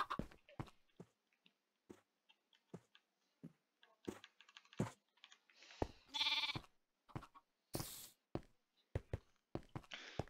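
Clicky keystrokes on a computer keyboard, in irregular bursts and single taps, close and fairly quiet, with a brief bleating animal-like game sound in the middle.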